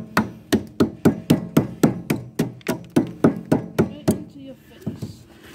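A chisel knocks out wood pieces for a DIY wooden wedding cross, about fifteen sharp, evenly spaced close strikes in a steady rhythm, then a pause and two softer blows.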